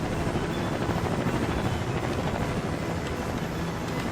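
VTOL helicopter plane in the video game Trailmakers: a continuous loud, rumbling engine and rotor roar that holds steady throughout, with no talk.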